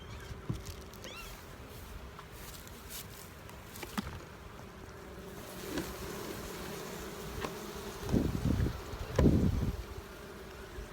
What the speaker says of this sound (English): There's a box of bees down there.